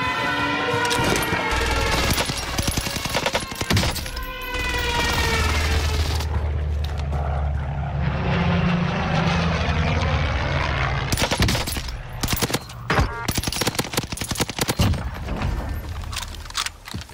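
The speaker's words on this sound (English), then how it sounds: "Enemy precision airstrike." An enemy precision airstrike in the shooter game Call of Duty Warzone Pacific: roaring aircraft, rattling gunfire and heavy booms piling up in a loud, chaotic stretch that eases briefly mid-way before another burst of blasts and shots.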